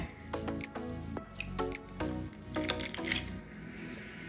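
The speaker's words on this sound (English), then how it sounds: "And then you're going to put 1 egg in there." Egg added to cottage cheese in a bowl, a few soft, close, wet squishing and dripping plops in an irregular sequence, quiet with no talk.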